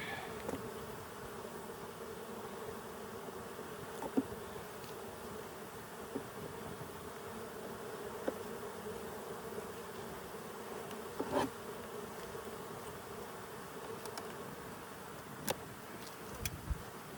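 Honey bees buzz steadily around hive frames at a beginner's Colorado hive, making a dense, continuous close-up drone with a few faint knocks and taps.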